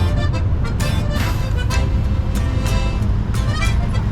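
City street traffic in Cebu City: a constant roar of passing cars and larger vehicles, with scattered sharp clatters and brief toots layered over the busy roadway.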